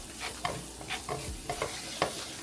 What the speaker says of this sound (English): So just let this cook and fry it up for like 3 minutes